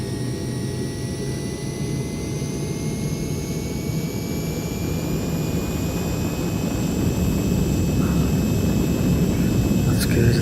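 A Heinkel He 162 jet engine drones loud and steady on approach, its whining tones sliding slowly upward as power is gradually increased over a constant, roaring rumble.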